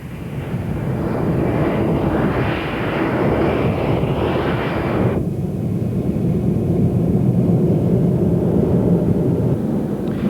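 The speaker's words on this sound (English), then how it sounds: "The KC-135, unglamorous but vital workhorses." A KC-135 fuel tanker aircraft taking off, a loud, continuous roar of jet engines that holds for the whole stretch and turns to a deeper rumble as the high hiss falls away midway.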